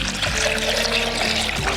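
Water pours steadily into a chick drinker, filled to the top, a continuous gurgling splash with a rising fill tone, loud and close.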